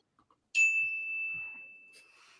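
A debate timer bell on a fantasy sports debate show gives one bright, sustained ring with a long, steady ringing tail that slowly fades, and a few soft sounds come before it.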